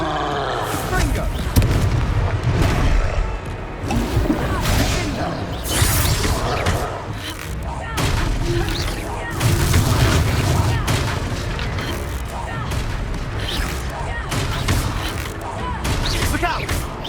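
Fire-blast spell explosions from the Hogwarts Legacy game on hard difficulty burst repeatedly in a chaotic battle, dense loud booms and cracks layered with combat effects and character shouts.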